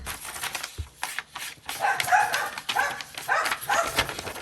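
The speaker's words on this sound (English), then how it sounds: "I'm so sorry about my dogs today." Dogs bark and yelp repeatedly in the background of a home craft room, the bursts coming in uneven clusters, moderately loud and somewhat distant, with no talking.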